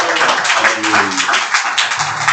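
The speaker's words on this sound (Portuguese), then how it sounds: "Palmas para o Senhor Jesus." A church congregation clapping hands during a Portuguese-language worship service, rapid overlapping claps sounding close and loud, with some singing or voices underneath.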